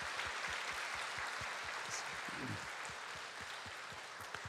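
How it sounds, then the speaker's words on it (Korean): A church congregation applauds during a Sunday worship service, a steady wash of clapping that fills the whole moment at moderate volume, with faint rhythmic thumps underneath. "우리 박수로 감사의 마음 전해주세요"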